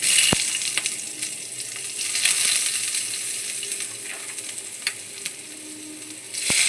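Cumin seeds and dried red chillies hitting hot oil in a pan give a loud, steady hiss with occasional sharp pops and clicks, continuous throughout with no talking.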